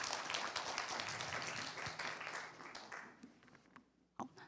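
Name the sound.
audience applause for the speaker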